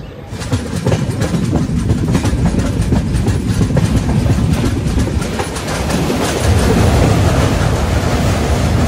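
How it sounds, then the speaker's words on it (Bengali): Toy train on the Darjeeling mountain line arriving at Bagdogra in North Bengal, running steadily and loud with continuous rumble and rhythmic clickety-clack of wheels over rail joints, no talking. "এবার ট্রেন এসে পৌঁছেছে বাগডোগরাতে"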